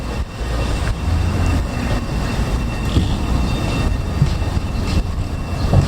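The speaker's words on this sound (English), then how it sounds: "Do I hear a tram coming?" A low, steady rumble of a tram approaching, with faint metallic rattles and clunks over continuous rolling noise.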